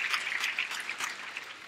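Brief burst of applause from an audience for a speaker at a professional event, dense clapping heard close and fairly loud with no talk over it.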